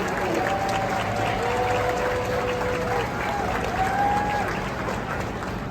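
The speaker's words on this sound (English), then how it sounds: "let's have a round of applause for the next speaker" Audience applause at a BART legacy fleet retirement ceremony, steady crowd clapping sustained throughout, with a whining tonal sound weaving above it.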